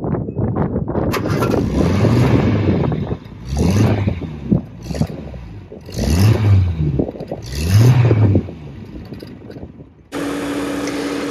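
Idling engine of a 1950s Vauxhall PA Velox classic car, heard from the rear, a steady low rumble that rises in a few revs and settles between them, close and fairly loud, ending with a brief steady hum.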